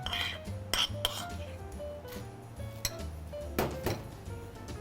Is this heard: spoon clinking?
yes